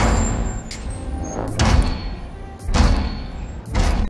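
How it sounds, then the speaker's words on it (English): Mech cockpit hydraulics and mechanical effects: loud, close pneumatic hisses and heavy thuds in several bursts, with sliding metallic clunks as the cockpit closes. "hydraulics engaging, HUD elements activating, cockpit closing around the pilot"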